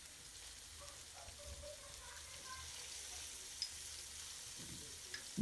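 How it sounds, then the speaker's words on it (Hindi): Beef sizzles and fries in a pan for a spicy chili beef dish, seasoned with salt and black pepper. The frying makes a steady, soft, close hiss throughout, with a couple of small pops near the end. "अभी हम इनको अच्छी तरह से फ्राई करेंगे।"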